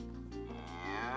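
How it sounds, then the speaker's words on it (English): A cow lets out a single low, sustained moo that rises slightly in pitch toward the end, clear and close with no voices. "That's the sound of a cow."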